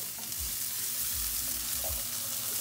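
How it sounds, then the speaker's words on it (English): Bacon fat and vegetables sizzle in a pan while being tossed for a hash, a steady close hiss with soft scraping stirs recurring throughout, no talking. "Put it around in the pan, hear that sizzling."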